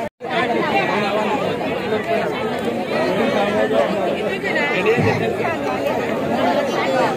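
Dense crowd chatter fills a busy fish auction in Malvan, many overlapping voices talking and calling at once, close and steady throughout.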